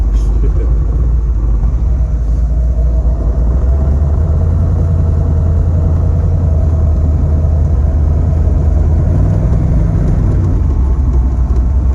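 A 1934 Ford three-window coupe runs on the road, its engine a loud, deep, steady growling rumble heard from inside the car with constant low road noise.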